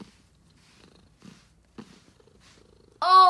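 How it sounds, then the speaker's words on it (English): A cat purrs loudly and close while being brushed with a deshedding glove, a steady rumbling burst near the end after several seconds of faint rustling and soft handling noises. "Oh yeah, that's like 100 decibels of purring."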